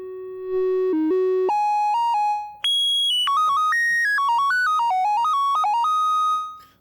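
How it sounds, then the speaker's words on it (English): A pure, smooth triangle-wave tone from a DIY analog synthesizer steps through a sequence of sustained pitches, low at first and then jumping higher, played alone and clean. "let's just have a listen to the triangle on its own"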